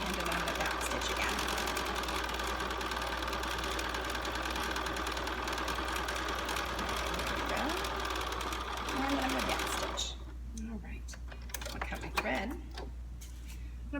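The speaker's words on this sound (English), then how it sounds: "stitch all the way to the end and I'm going to back stitch again" A sewing machine runs steadily through a double gauze scarf seam for about ten seconds, a dense continuous whir, then stops, leaving faint handling clicks and light rustle.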